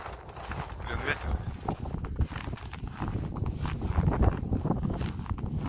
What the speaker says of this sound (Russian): Блин, ветер.